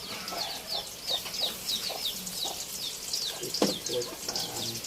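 Chickens cluck and chatter repeatedly in a farmyard, a busy layered flock sound with occasional faint voices mixed in the background.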